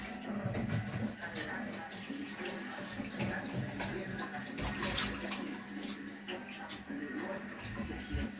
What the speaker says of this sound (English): I wash the fish now